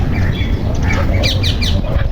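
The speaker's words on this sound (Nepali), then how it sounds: "यो चाहिँ काकातिल है" A cockatiel gives a few short, shrill calls in quick succession over loud, rumbling background noise.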